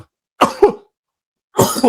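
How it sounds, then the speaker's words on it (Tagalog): Two close, raspy coughs: a quick double cough, a short pause, then another harsh cough. "inuubo talaga ako"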